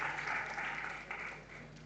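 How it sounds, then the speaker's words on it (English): An audience applauds at an awards event recognising gender equality, a soft, steady patter of clapping heard from a distance that lasts throughout. "Big round of applause to them"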